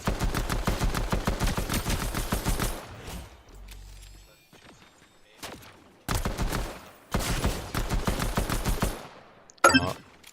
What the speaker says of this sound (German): Wieso schießt er auf mich? Ich habe dem nichts gemacht. Die schießen automatisch.